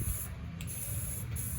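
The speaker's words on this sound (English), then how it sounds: "just make sure that you're spraying from both angles" An aerosol can hisses in a short, close burst while painting tire sidewalls white, one steady spray with two tiny breaks.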